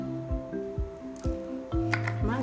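Barbecue sauce squeezed from a plastic bottle over pork neck bones, several close wet squelching squirts with sputtering air pops, growing messier toward the end.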